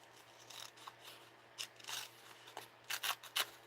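Scissors trimming material at a craft table, a series of crisp close snips, sparse at first and then quicker clusters near the end, with no talking.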